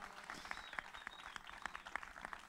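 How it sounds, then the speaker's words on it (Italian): Applause at a live project presentation for the event's host Noemi Frascella, a moderately dense crowd clapping with distinct individual hand claps popping out, steady throughout and somewhat distant. "un applauso molto forte lo farei per Noemi Frascella"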